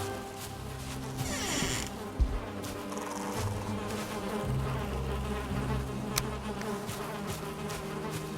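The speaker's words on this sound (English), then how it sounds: "Definitely sounds bee-like." Bees buzzing steadily around a hive at a small hut in the woods in the video game Valheim, a continuous close droning hum with no talking.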